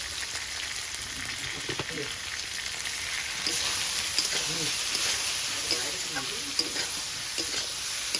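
Food fries and is stirred in mustard paste with green chilli and cumin paste for mustard hilsa with eggplant. The sizzle is steady and close, with repeated stirring scrapes and a voice talking at times.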